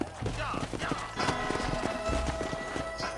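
In Red Dead Redemption, horse hooves clip-clop in a quick, uneven rhythm over a canyon trail, moderately close, while a voice talks over them.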